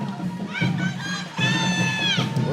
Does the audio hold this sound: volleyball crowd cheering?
yes